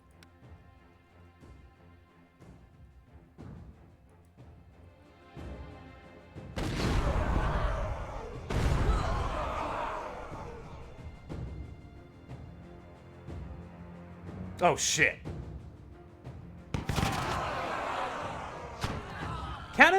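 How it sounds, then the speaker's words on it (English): Cannon and musket fire in the strategy game We, The Revolution: several heavy booming blasts and crashes in clusters, loud and close, with someone talking and exclaiming between them. "Cannons are dangerous, aren't they?"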